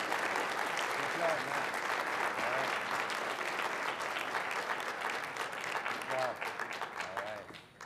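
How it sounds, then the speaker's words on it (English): Sustained applause fills a school board meeting room, as the audience claps steadily for students, loud and continuous for the full stretch before tapering slightly at the end. "how about one more round of applause for all the students and what a fantastic job they've done"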